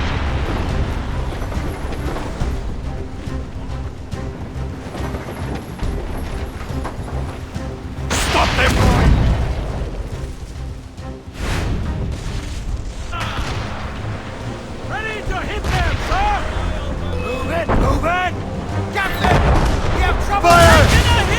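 Ship cannons boom across an Assassin's Creed Rogue naval battle, loud bursts and crashes under a dense game score, with louder blasts around the middle and end and shouting crew voices mixed in.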